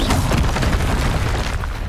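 A booming fire-spell blast from the Hogwarts Legacy game, loud and continuous over about two seconds of dense rumbling impact.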